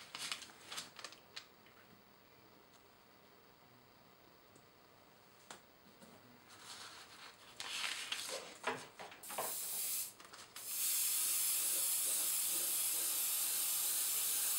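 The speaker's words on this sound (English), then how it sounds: "I'm going to spray over" Short hisses of spray come and go, then a steady, loud airbrush spraying thinned paint over light grey on a water tower model hisses continuously through the final few seconds.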